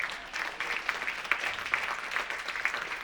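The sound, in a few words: audience round of applause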